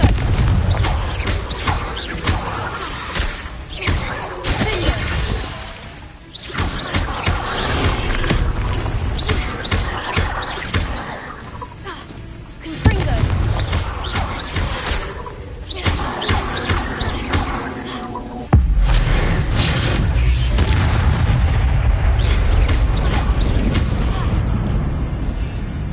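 Fiery explosions from Confringo spells in Hogwarts Legacy erupt repeatedly as loud booming blasts, dense with crackling and rumbling layers and chaotic combat noise throughout.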